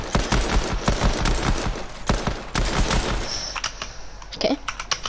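Pistol fire in a video game comes as a rapid string of sharp, close shots. They fire almost continuously before thinning out toward the end.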